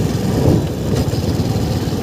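A Suzuki Gixxer 250 motorcycle engine drones steadily while the bike is ridden in fourth gear, a constant, fairly loud rumble mixed with wind noise, with no speech.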